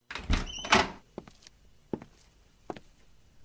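A knock-at-the-door sound effect: a loud pair of heavy thuds on a door, then several fainter, sparse knocks and taps spaced out over a quiet background.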